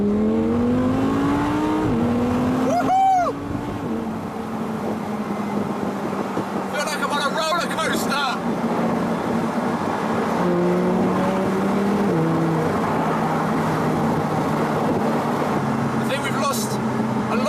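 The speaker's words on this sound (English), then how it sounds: "We may lose some sound and get lots of wind noise, but let's see how good the aerodynamics of the car and the airflow is" Strong wind buffeting and roar of a convertible car driven fast on a dual carriageway, loud and continuous with engine drone underneath and a brief whistling tone early on; a voice is heard at times.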